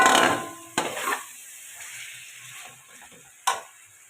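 Meat, 1.5 kilos for a biryani, sizzles in a pot, with a loud burst of frying at the start and sharp stirring clatters of a spoon against the pot, then a quieter simmering hiss.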